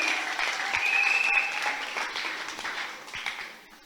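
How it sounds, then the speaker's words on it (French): A church party crowd bursts into sustained applause for the bishop, many hands clapping steadily and fairly close, swelling briefly then tapering off. "Est-ce qu'on peut acclamer?"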